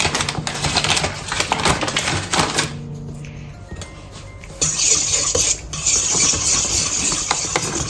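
Leek tart dough being mixed as pastry flour is added, with clattering, scraping utensil and bowl noises in irregular bursts, a short quieter gap midway, then renewed busy clinking.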